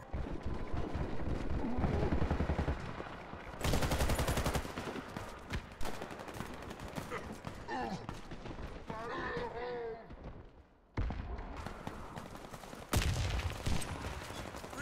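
Bursts of rapid gunfire from a shooter video game set in Chernobyl, loud automatic volleys broken by pauses, with a voice talking between the shots.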